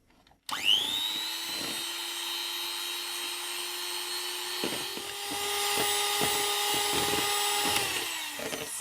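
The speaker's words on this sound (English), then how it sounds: "let's continue whisking." An electric whisk beats a dark chocolate dessert mixture, giving a steady, close motor whine that runs without a break for about eight seconds, with no talking.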